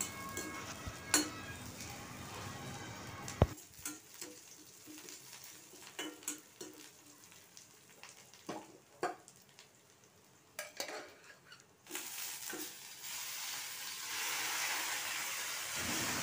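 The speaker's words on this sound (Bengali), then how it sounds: "রসুনটা ভাজা হয়ে গেলে আমি পেঁয়াজটা দিয়ে দিচ্ছি।" Chopped onion stir-fried in a pan of oil after garlic, with intermittent stirring scrapes and clinks of a utensil against the pan over a low sizzle, the frying growing into a louder steady hiss toward the end.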